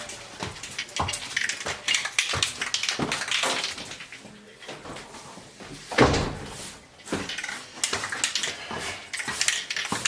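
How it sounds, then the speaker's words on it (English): A door bangs shut amid scattered knocks and rustling, with one sharp, loud slam standing out partway through. "I'm going to walk upstairs and close this upstairs door"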